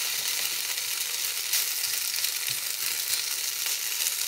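Onion frying in a pan during potato-and-egg cooking, a steady bright sizzle and crackle running throughout at close range, with occasional faint stirring knocks and no talking.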